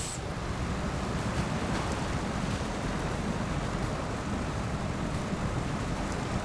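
In the SnowRunner video game, a truck ploughs through water in the Yukon while carrying another vehicle, producing a steady, dense rushing wash of splashing and engine rumble that holds constant throughout.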